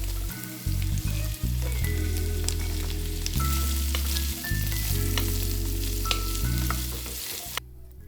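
Onions fry and brown in a pot with a loud, close, continuous sizzle, broken by several bursts of stirring and scraping, and the sound drops away abruptly right at the end.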